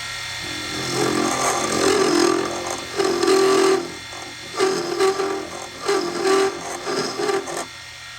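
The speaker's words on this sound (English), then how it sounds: "We're going to clamp it in a pair of vice grips, just like this. And we're going to true this metal off." Metal clamped in a pair of vice grips is trued off with a file, in rhythmic rasping strokes with brief pauses between them, close and fairly loud.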